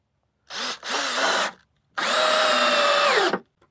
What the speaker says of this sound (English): Throw another screw on these supports up top.